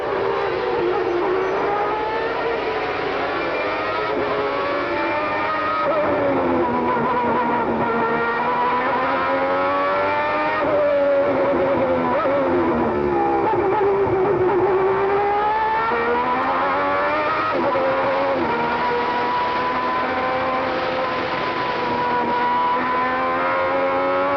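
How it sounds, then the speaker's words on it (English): Onboard roar of a 12-cylinder Ferrari Formula 1 race car at the 1989 Portuguese Grand Prix, a loud continuous high-pitched engine wail rising and falling through gear changes, with no talk. "We'd like to give you an incidence of the sight and sounds of the 12-cylinder Ferrari."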